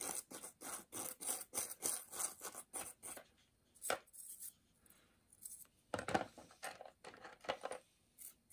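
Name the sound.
brushing cosmoline off a Lee Enfield rifle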